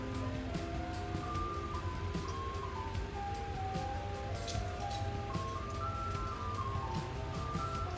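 Outside, an ice cream truck sits idling while its jingle plays, a tinkly melody running continuously over a low engine hum, steady and moderately loud from a short distance.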